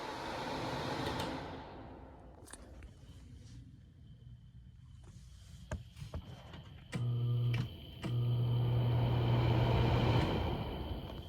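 A Lasko high velocity tower fan set to speed 2 blows a broad, steady airy whoosh with an underlying motor hum, broken by a few clicks before settling into a continuous rush of air.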